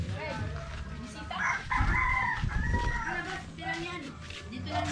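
Chickens in a rural yard in Tacloban, Leyte, clucking and crowing nearby, with a drawn-out rooster crow rising over steady clucks while people talk in the background.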